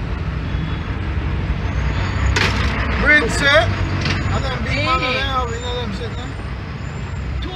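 Night street traffic in Jamaica, with trucks and buses rumbling past, a hiss of air brakes, and a continuous low roadway drone under a nearby voice talking.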